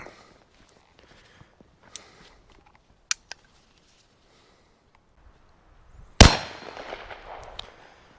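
A Bond Arms Blackjack pistol fires a single Hornady Triple Defense round, one sharp loud crack near the end followed by a fading ringing tail, after a few faint clicks and handling noises.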